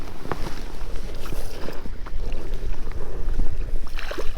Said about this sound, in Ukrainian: Вітер страшний сьогодні дує.